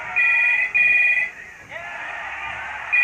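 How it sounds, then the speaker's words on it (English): A telephone ringing in a short electronic ring tone, repeated bursts with a brief gap, clear and fairly loud with no other sound. "when the phone rang"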